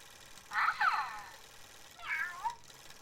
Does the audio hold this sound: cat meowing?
yes